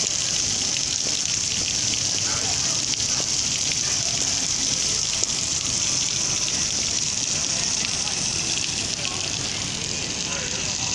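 Water splashing steadily from a sculpture fountain at Southpoint Mall, a continuous loud broadband rush with no pauses, with rain pattering nearby.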